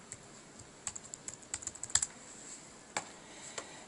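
Computer keyboard keys tapped in short irregular bursts while a login and password are typed, close and clear with no talking.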